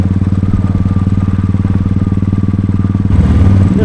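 A motorcycle engine runs with a loud, steady, rapidly pulsing throb close by during a ride in Jhapa, its note thickening and rising slightly near the end as it revs.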